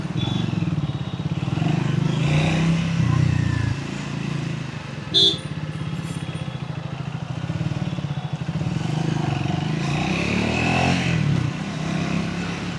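Triumph Speed 400 motorcycle engine on a road ride, a steady close drone that rises and eases slightly, with wind rush over it and one brief sharp click midway.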